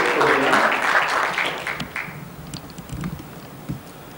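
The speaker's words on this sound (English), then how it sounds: "can we still give a round of applause" A conference audience at an international benchmarking event breaks into dense applause that thins after about two seconds into scattered, fading claps and a few soft taps.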